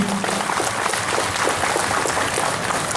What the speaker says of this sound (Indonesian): Tepuk tangan buat Bu Risma.